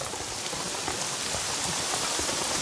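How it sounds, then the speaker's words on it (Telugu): Steady rain falls on a hard surface, a dense, even patter that stays loud and close throughout with no voices over it. "వర్షం పడుతుందమ్మా."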